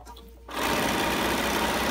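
A sewing machine starts up and runs steadily, stitching fabric for a custom fabric container, close and loud after a brief quiet moment.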